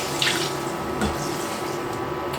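Water pours into a big cooking pot on a stove ring over softened onions, a steady close splashing gush with a couple of sloshing surges, no voices.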